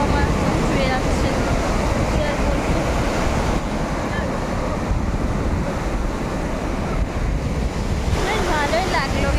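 Ocean waves wash up on Marina Beach in Chennai as a constant loud surf roar, with heavy wind buffeting the microphone throughout. A voice is faintly audible underneath at times.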